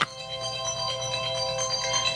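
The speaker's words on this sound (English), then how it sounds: "Turn your phone off, Doc." A mobile phone ringtone plays steadily and fairly loud through a conversation setting, its sustained tonal melody filling the moment with no talk over it.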